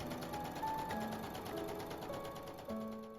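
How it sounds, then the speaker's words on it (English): A sewing machine stitching the edges of fabric pieces for a sleeveless maxi sundress, running in a continuous mechanical whir with a close, steady hum and faint shifting tones. "Sew the edges right sides together"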